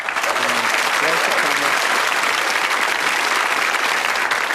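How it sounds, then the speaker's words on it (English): A game show studio audience claps loudly and steadily, a dense wash of applause, with a voice briefly heard over it at the start. "So, a big round of applause for the Hughes family."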